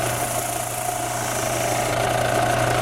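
A power sander working a carved wooden crow totem for a Native American flute drones steadily and loudly at close range with a buzzing hum, with no talk.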